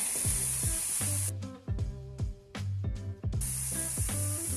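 Pork steaks frying in a pan over medium heat, seasoned with salt and pepper, giving a steady loud sizzle with brief dips where the hiss drops away before resuming, alongside some low clinks and kitchen noise.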